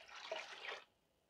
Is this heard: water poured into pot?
yes